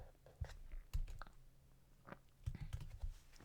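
Keys clatter faintly on a computer keyboard, a few soft scattered taps and short bursts close by and quiet. The typing happens while the Rhino 3D software interface is being customized.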